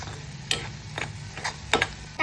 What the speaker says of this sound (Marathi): आता सगळा मिक्स करू.